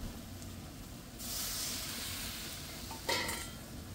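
Water poured into a pan of frying vegetables sets off a sudden broad hiss of sizzling about a second in, close and steady, with a second sharp burst of spatter near the end.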